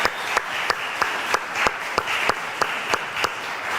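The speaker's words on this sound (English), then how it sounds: "let's give it a round of applause for all the people we're about to show" Applause at a cyber games draft event: a soft, continuous rustle of clapping with a few sharp, evenly spaced claps standing out in a steady rhythm.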